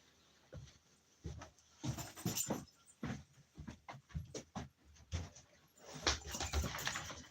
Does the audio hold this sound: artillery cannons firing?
no